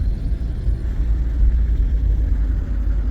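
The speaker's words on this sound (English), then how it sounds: "Strange noises from engine," Low, continuous rumble of a BMW 116i engine running, which is making strange noises, steady and close, with no voices.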